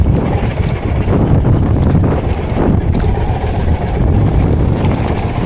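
Waves slap against a small boat out on the Pacific Ocean in rough, strong-current water, with a steady, loud wash of surf and heavy wind buffeting close to the microphone throughout.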